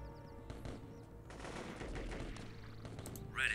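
Rapid automatic gunfire rattles through a war video game battle, a dense sustained burst of shots with a brief lull near the middle, fairly loud with no talk over it.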